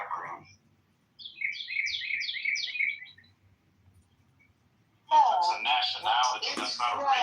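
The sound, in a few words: birds chirping outdoors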